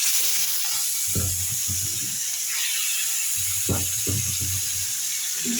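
Fish coated with salt and turmeric frying in hot oil, giving a steady, loud sizzling hiss throughout with a few soft low thumps and bumps beneath it.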